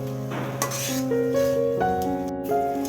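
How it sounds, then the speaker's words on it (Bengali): Spiced taro curry is stirred and sautéed in a pan, with steady scraping and soft sizzling running throughout, close and moderately loud, over a continuous tonal hum. "তো এখন ভালো করে কিছুক্ষণ কষিয়ে নেব।"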